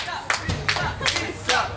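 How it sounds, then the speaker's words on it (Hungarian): A group claps in uneven bursts, several sharp hand claps spaced through a short stretch, fairly close, with voices mixed in around them. "A taps! A vas taps!"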